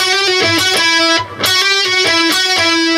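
A heavily distorted electric guitar plays a fast rock riff from a song, a quick run of picked notes with a brief dip in the middle, loud and up close with no talking.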